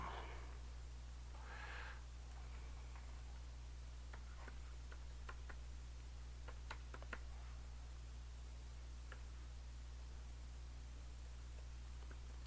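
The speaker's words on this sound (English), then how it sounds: "Sorry, I'm typing this little thing out." Keys on a computer keyboard are tapped in scattered, faint clicks, mostly in the middle stretch, over a steady low electrical hum in a quiet room.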